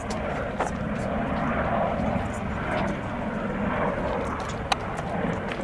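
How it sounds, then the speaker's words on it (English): A steady low rumble of a helicopter passing at a distance over the Grand Canyon at Guano Point, droning continuously with faint chopping texture and a few small knocks nearby. "There's a helicopter."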